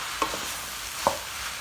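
Eggplant and red and yellow peppers sauté in a pan with a continuous soft sizzle, broken by two quick scraping stirs of a utensil.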